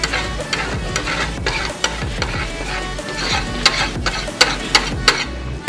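Cooking oil sizzles in a pan on a solar cooker, a steady crackling fry with intermittent sharp pops and scraping stirs, close and fairly loud throughout.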